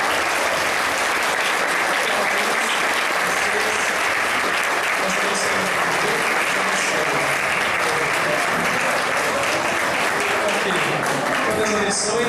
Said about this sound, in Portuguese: Podemos dar uma salva de palmas para as mães.